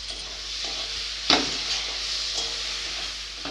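Onion cooked with chili, coriander, turmeric and cumin powders plus chopped tomato fries in a pan for a Bengali rohu fish and mankochu curry, a steady soft sizzle with gentle stirring scrapes and one sharper clink near the middle.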